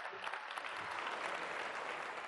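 Audience applause at a political speech in Mexico, a steady dense wash of many hands clapping at once, sustained and even throughout with no voices standing out.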